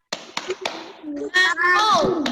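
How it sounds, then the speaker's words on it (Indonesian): A few sharp hand claps in a short rhythmic spirit-clap pattern from an online elementary class, followed by a voice speaking. "Yuk, tepuk semangat."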